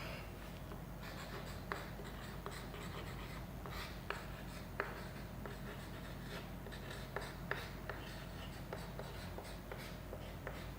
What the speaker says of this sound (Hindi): तो लिख लेते हैं